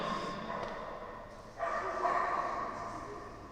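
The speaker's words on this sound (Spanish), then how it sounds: "Hay un perro aquí en la iglesia" A small dog yips and barks inside a church, the sounds faint and somewhat distant in a reverberant room, mixed with a quiet background murmur and no clear speech.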